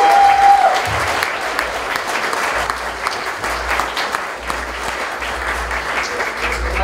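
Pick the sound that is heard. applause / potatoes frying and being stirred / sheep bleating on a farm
applause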